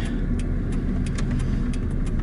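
A small car with bad steering drives at higher speed, its steady engine and road rumble overlaid by repeated light clicks and ticks from the car.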